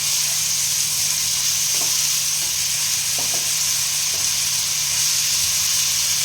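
Green chili, ginger and garlic fry in hot oil for a potato and pointed gourd dish, giving a loud, unbroken hissing sizzle with a few faint spoon knocks, close and without talk.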